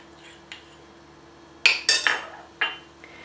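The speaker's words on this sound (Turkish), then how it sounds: "bir dolu yemek kaşığı fıstık ezmemi karıştırma kabına alıyorum" A heaped tablespoon of peanut butter scooped into a mixing bowl for peanut butter cookies, heard as a quick cluster of close spoon-on-bowl clinks and knocks after a quiet start.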